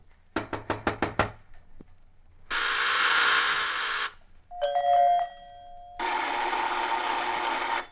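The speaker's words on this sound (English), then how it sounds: "Annoying, isn't it, the repeated ringing of your doorbell?" A doorbell rings again and again in an old radio drama: a quick burst of sharp rapid rings, then longer sustained buzzing rings alternating with a clear bell tone, separated by brief pauses.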